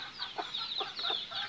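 Hen and her small chicks clucking softly in a repeated, close pattern of short calls, with thin peeping chirps above, no talking.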